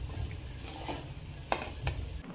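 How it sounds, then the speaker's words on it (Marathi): Poppy seeds and fresh coconut roasting in a kadhai give a steady close sizzle, with a couple of sharp scrapes from stirring. "कढईमध्ये मी खसखस भाजून घेतली, खोबरं भाजून घेतलं"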